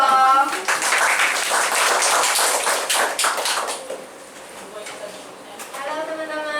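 A class at an entrepreneurship lesson claps in a short, moderately loud burst of applause that fades, with voices talking at the start and end.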